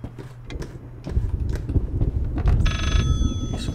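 Telephone ringing in the horror video game Layers of Fear, a steady electronic ring with clear tonal bursts arriving late over a dense, noisy background of low rumbling game ambience.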